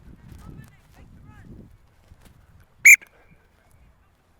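A sharp, loud single whistle blast at rugby training, standing out briefly after low murmuring voices and shuffling on the field.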